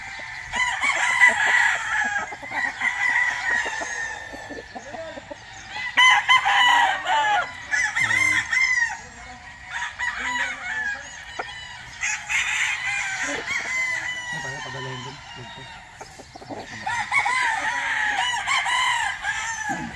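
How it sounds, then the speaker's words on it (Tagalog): Many roosters crow over and over, overlapping one another, with hens clucking throughout in a busy, noisy gamefowl farm yard. "Pagka ganito palang madami talagang manok"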